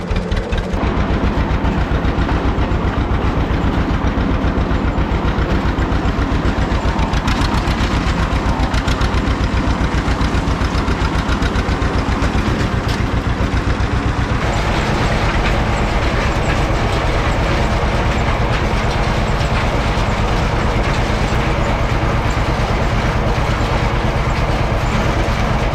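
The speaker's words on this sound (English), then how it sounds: "So we'll go to the last field and keep on raking with the John Deere 530. I say this every time, you can't beat that sound" A John Deere 530 tractor engine runs steadily while raking hay in a field, a loud continuous mechanical drone with a rhythmic knocking beat that holds throughout and grows slightly louder partway through, with no talk.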